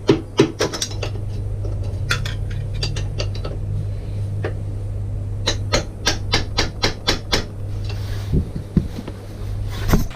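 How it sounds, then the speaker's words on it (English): A bolt is hammered out on a Triumph Sprint GT1050 motorcycle, sharp metallic strikes coming in bursts of quick blows with pauses between, close and loud over a steady low hum. "Force out the bolt and trying not to damage anything else."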